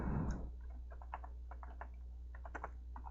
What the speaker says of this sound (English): I'm just typing absolutely normal language in here